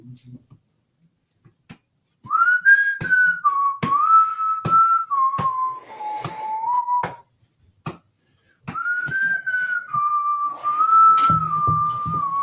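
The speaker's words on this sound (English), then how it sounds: "Stop whistling, please. Stop whistling now." Someone whistles a slow melody in long sustained notes, with sharp clicks and taps breaking in between phrases and a short pause midway.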